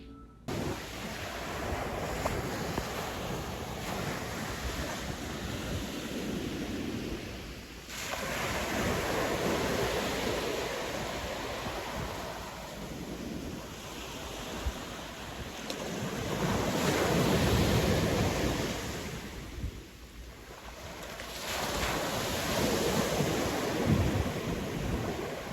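Ocean surf and wind at night from a boardwalk on Assateague Island, a continuous broad roar of waves rising and falling in slow swells, with gusty wind buffeting the microphone throughout.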